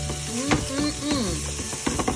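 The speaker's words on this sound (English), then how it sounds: "you can hear the onions and garlic sizzling" Oil sizzling steadily as onions and garlic fry in a pan, with faint stirring scrapes and a few soft clinks, no voices.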